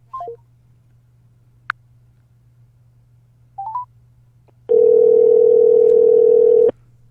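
A telephone line after a call drops: a few short dialing tones, a low steady hum underneath, then a loud continuous dial tone lasting about two seconds before it cuts off.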